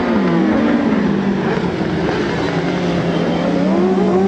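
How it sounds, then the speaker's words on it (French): Racing sidecars roar continuously as they arrive at the first corner at the Croix-en-Ternois circuit during a Promosport race, with engines droning loudly and shifting pitch as they brake and accelerate. "le vrai départ des sides. Et c'est parti pour les sides. Voilà, on voit les 2 premiers sides qui arrivent"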